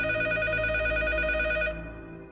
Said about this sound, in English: And then the phone rang.